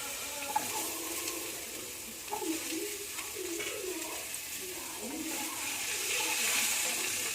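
Potatoes and five-spice (panch phoron) dropped into hot oil give a soft, steady sizzle and frying hiss, with light stirring and scraping over a low background.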